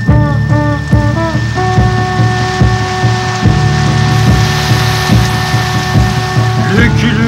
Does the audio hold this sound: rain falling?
yes